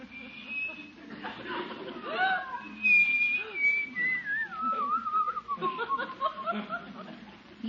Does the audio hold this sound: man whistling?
yes